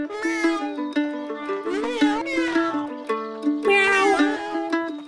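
Several voices meow over voice chat in the New World online game, pitched, wavering cat-like cries overlapping in quick succession, fairly loud and continuous throughout, people imitating cats.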